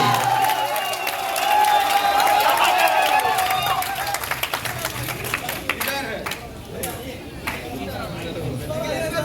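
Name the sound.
audience applause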